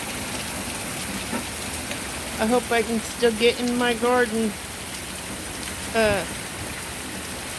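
Heavy rain pours down beside a house in a steady, dense hiss that fills the whole stretch, while a person talks over it for a few seconds in the middle and again near the end.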